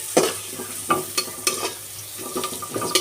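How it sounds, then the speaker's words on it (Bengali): Crabs frying in oil in a pan, with a low background sizzle and a series of close, sharp scraping and clattering strokes at an uneven pace, and no talking. "তেলে নিতে হবে। কাঁকড়গুলো অবশ্যই ভেজে নেব।"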